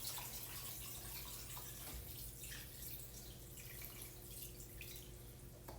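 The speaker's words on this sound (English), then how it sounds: "I'm going to top off with about 6 cups of water" Water from a tap pouring steadily into a multi-cooker pot while making budget chicken stock, a soft continuous trickle and splash at close range under a faint hum, with no talking.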